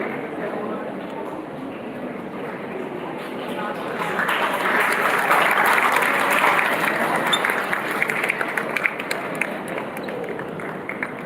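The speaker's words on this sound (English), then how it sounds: "A huge round of applause once again." Audience applause at a school G20 youth event, a broad wash of clapping that swells in the middle and carries on steadily with scattered sharper claps toward the end.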